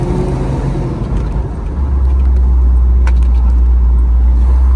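A 1968 Pontiac Firebird with a swapped-in 403 V8 drives along, its engine droning loud and close, then settling into a heavier, steadier low rumble as it pulls.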